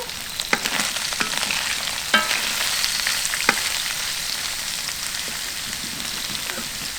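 Chopped onion and green chili sizzling in hot oil in a frying pan while dried fish is being cooked, a steady bright hiss with occasional crackles and stirring taps, close up and alone.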